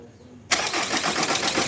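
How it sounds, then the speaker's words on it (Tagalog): An Isuzu D-Max with a 4JJ3 diesel engine, stalled on the road, cranks abruptly into a loud, steady starter churn with a pulsing rhythm, close to the microphone. "Ngayon ay subukan nating paandarin yung unit kung aandar na ba to."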